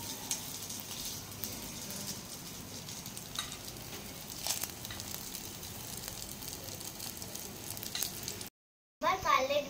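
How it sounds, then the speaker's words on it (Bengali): Bhetki fish cutlets flipping over while frying in hot oil, a steady dense sizzle running throughout, with a brief dropout near the end followed by a louder burst of frying. "কাটলেটগুলোকে উল্টে নিচ্ছি।"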